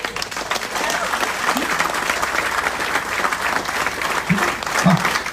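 Audience applause at a motivational speech event in an indoor hall, with steady dense clapping from a large crowd that holds loud throughout, plus a couple of low thumps near the end.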